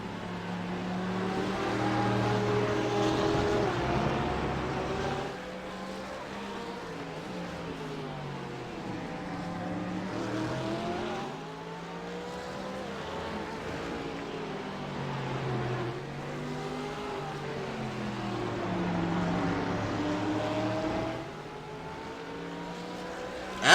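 GT3 race cars, a Porsche and a Mercedes, racing at the Hungaroring, engines rising and falling through gear changes in repeated sweeping waves, sustained at moderate distance throughout.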